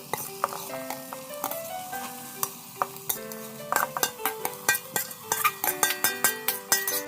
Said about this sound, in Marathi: आता हे सगळं व्यवस्थित मिक्स करून घ्यायचंय